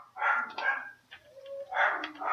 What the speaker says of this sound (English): Now my beagle is barking.